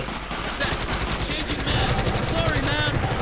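Rapid gunfire from the Elite Forces video game in survival mode, bursts of shots cracking repeatedly over a busy game soundscape with music and effects, loud and continuous throughout.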